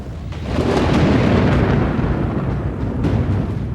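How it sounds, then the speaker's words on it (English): Deep rolling thunder from a storm building on an open savanna rumbles loudly and continuously, swelling and fading over a few seconds with no other sounds. "As the afternoon wears on, a storm begins to brew."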